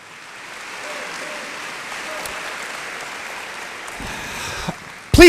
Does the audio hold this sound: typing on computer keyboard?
no